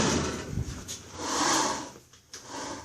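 Bed of a 2400 series machine slid forward along its shaft, a smooth rolling scrape that swells and fades close by, ending with a short clunk.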